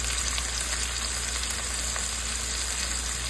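Lamb chops sizzle steadily in a pan of lemon garlic butter, a dense continuous frying hiss that holds even and close throughout, with no voices.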